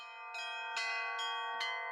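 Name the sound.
Russian bell ringing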